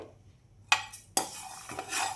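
Sesame seeds, coconut and poppy seeds dry roast in a pan, with two sharp metallic clinks of a spoon on the pan followed by soft scraping stirs, close and fairly quiet.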